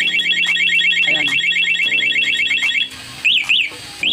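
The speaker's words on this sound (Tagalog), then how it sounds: "ganun lang po mag-testing nitong ating motorcycle alarm" A motorcycle alarm being tested during installation on a Yamaha scooter gives off a loud, fast warbling siren. It then breaks into a few separate rising chirps.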